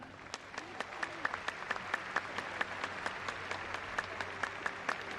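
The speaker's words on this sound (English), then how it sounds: "Ladies and gentlemen, a round of applause, please, for these finalists" An audience at a Crufts junior dog show final claps for the finalists, with scattered, moderately distant applause and individual sharp claps standing out over a low background hum.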